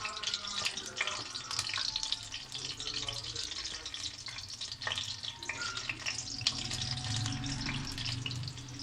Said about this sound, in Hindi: ऐसे थोड़ी थोड़ी डाल के आप फ्राई कर लें।